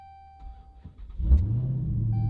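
A Dodge Hellcat V8 bought at a salvage auction is started up, a sudden loud mechanical burst settling into a deep steady idle rumble with a slight rev, heard close and alone with no talk.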